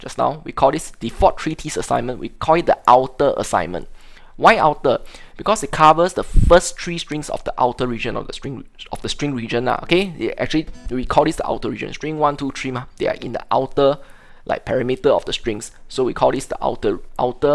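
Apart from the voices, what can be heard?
No everyday noise stands out behind the speech.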